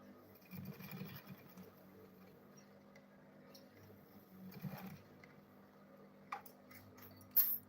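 Quiet sewing machine stitching a school bag, with short bursts of running stitches separated by pauses and a few soft clicks and handling noises, no talk.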